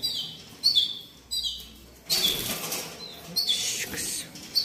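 A Yorkshire cross canary flutters in its cage, with repeated bursts of close, loud wing flapping and a few faint chirps.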